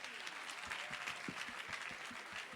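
An audience at a car award ceremony in Côte d'Ivoire claps steadily, a dense wash of applause with sharper individual claps standing out close by.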